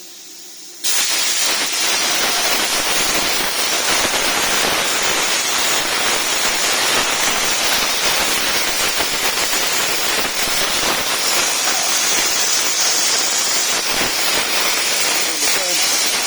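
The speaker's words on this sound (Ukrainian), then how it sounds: "він буде е, опускатися, ловити дугу, запалювати і працювати по програмі." A CNC plasma cutter on a plasma-milling machine strikes its arc and cuts, a loud, steady, dense hiss that starts abruptly about a second in and holds unbroken to the end, with no talk over it.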